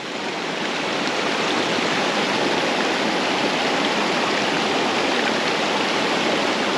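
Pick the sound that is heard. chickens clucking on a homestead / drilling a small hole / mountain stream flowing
mountain stream flowing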